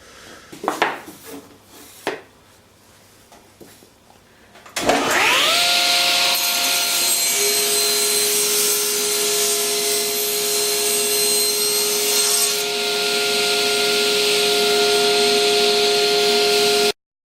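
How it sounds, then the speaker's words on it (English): A table saw starts with a thump and settles into a loud, steady motor whine as it cuts a taped hardwood dowel. The tone shifts slightly partway through, and no one speaks. "now I can cut it on the table saw"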